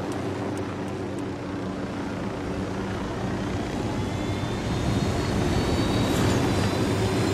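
A helicopter flies overhead in Ghost Recon Wildlands, its steady rotor and engine drone loud and continuous, swelling slightly toward the end with no talk.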